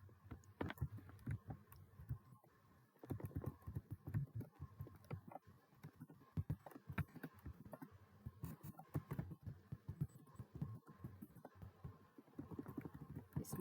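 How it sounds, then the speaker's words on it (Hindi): Numbers are typed into an Excel spreadsheet on a computer keyboard, heard as close, quick, irregular key clicks in bursts with short pauses between them. "जैसे मैंने इसमें कुछ भी नंबर ऐसे टाइप कर दिया"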